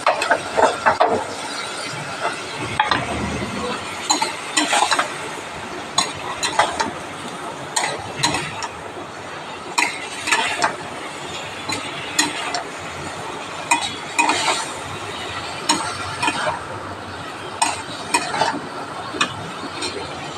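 A spatula scrapes and taps in a rhythmic stir-fry of tomato, coriander, cumin, ginger, dried red chili, turmeric, salt and sugar in a pan. Repeated clinks and scrapes ride over a low, soft sizzle, close by.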